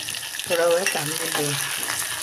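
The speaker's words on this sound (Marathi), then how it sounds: "कांदे मिरची होऊ देऊ आपण त्याला." Onions and green chillies frying in hot oil with mustard seeds and cumin, a steady close sizzle with stirring for a cooked rice dish.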